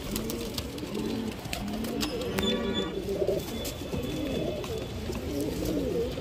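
Pigeons coo in a soft, continuous rolling murmur at close range, with a few sharp clicks and rustles overlapping.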